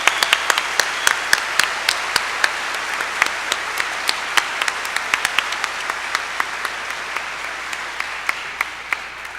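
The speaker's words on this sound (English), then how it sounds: "Please give them a round of applause" Applause from a high school graduation audience, a steady wash of many hands clapping with sharp individual claps standing out, sustained at even loudness throughout.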